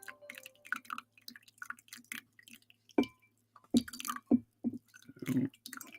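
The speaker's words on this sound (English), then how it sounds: "pouring more Java juice. Hopefully that isn't too loud coming through because you're close to my mic" Coffee is poured into a cup right beside a microphone, giving wet drips, glugs and splashy bursts that come in uneven clusters and get heavier toward the end.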